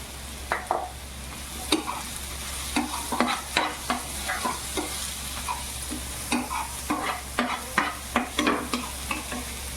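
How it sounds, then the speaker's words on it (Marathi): Mushroom bhaji with onion, tomato and turmeric sizzles in oil in a pan, with repeated scraping stirs of a spoon at an irregular rhythm over a steady low hum. "तर हे मशरूम आपल्याला याच्यात टाकायचे एक जीव करून घ्यायचे"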